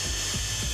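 A power drill works on wood, a steady grinding, rubbing whir that stays loud throughout with a couple of brief dips in the low end, and no voices.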